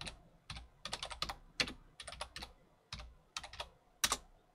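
Keys clatter on a computer keyboard in quick irregular bursts of soft clicks with short pauses between, quiet and close with nothing else audible.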